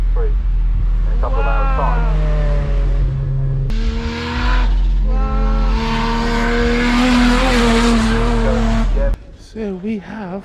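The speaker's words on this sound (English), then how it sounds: "Drifting around, look at that, go!" A drifting car's tires squeal loudly and continuously over a revving engine at a Japanese car event, with an excited voice talking over it.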